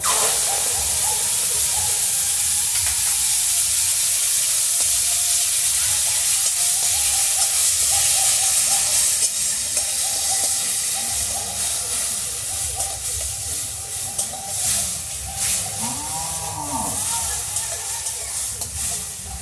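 Tomato and ginger paste hits hot oil already tempered with cracked cardamom and cinnamon, giving a loud, continuous sizzling hiss that eases slightly over time, with scattered sputters.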